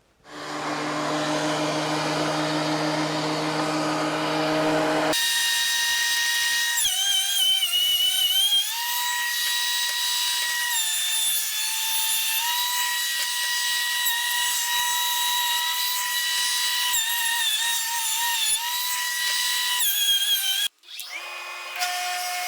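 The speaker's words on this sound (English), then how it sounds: "run that edge through the jointer to give me a nice square whatever piece" A jointer milling the edge of a wood piece for a table repair: a loud motor whine spins up, then holds a steady high-pitched cutting roar for about fifteen seconds before cutting off sharply and briefly restarting.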